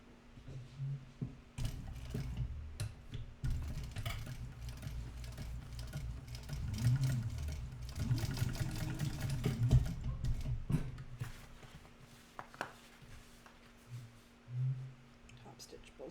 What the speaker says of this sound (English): Now we top stitch on both sides.